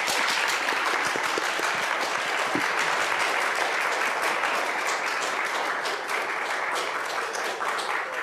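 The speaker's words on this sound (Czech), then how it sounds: "Takže poprosím o potlesk" Steady audience applause rings out at a talk event honoring an organist, many hands clapping in a full, even burst that holds for over eight seconds.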